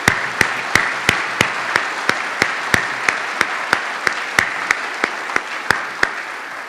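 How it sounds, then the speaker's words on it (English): A community audience gives a round of applause for partners at a civic redesign presentation: steady, dense clapping throughout, with sharp regular claps from one nearby person standing out over the crowd. "I just want to give these guys a round of applause"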